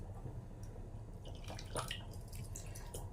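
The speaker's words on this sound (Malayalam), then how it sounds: "പുളി ഒന്ന് പിഴിഞ്ഞെടുക്കട്ടെ." Tamarind squeezed by hand in water for a home Kerala curry, with faint, close drips and soft wet squishes over a low background hum.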